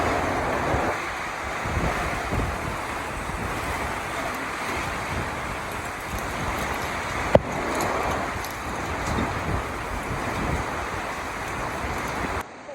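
Strong wind roars continuously during a heavy rainstorm in rural Laos, a dense, gusting rush close to the microphone with a brief sharp knock midway and no speech.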